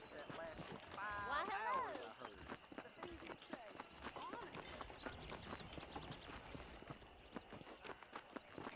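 In Red Dead Redemption, a called horse arrives, its hoofbeats coming in irregular clops under game ambience and effects, with a short whinny early on.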